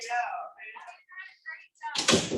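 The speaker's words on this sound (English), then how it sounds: "I'm going to close the doors" A voice speaks briefly, then a door thuds shut with a solid knock near the end.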